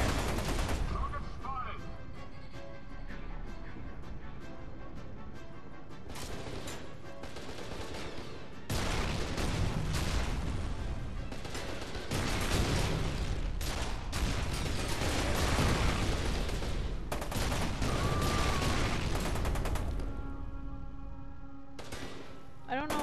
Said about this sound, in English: Wait a minute, I don't know who's shooting at me.